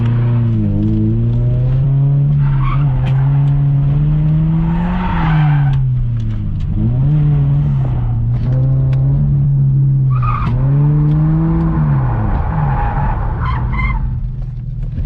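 A car drifting and spinning at a drift day: loud, close engine drone rising and falling with revs, with bursts of tire skid and squeal as the car slides and spins, and no talking.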